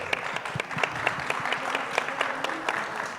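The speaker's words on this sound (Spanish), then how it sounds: "Quiero que le den un fuerte aplauso a nuestro querido Lucas." A panel audience gives a welcoming round of applause for a panelist, a fairly close, lively spread of distinct claps with crisp individual hits over a continuous patter.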